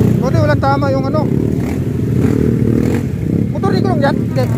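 A motorcycle engine hums and rumbles on a public road, a loud steady drone running throughout beneath excited talking voices.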